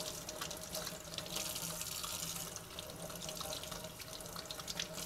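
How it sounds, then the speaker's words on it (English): Tap water runs steadily into a sink, rinsing freshly cut trout fillets, a continuous close splashing stream with no talk. "You want to rinse all your fillets real good."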